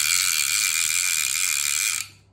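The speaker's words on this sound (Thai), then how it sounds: "ตัวนี้เป็นคลิกเสียงนะครับฟัง" A PENN 155 fishing reel, made in the USA, gives a rapid buzzing click from its clicker ratchet, loud and close, running for about two seconds before it stops abruptly.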